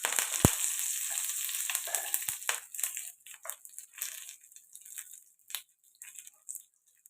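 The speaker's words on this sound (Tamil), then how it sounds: "கடுகு பொரியுது உளுத்தம் பருப்பு சேர்ந்துருச்சு" Mustard seeds and urad dal frying in hot oil, a dense sizzle peppered with sharp popping crackles that starts loud and thins into sparse, close pops as the seeds finish spluttering.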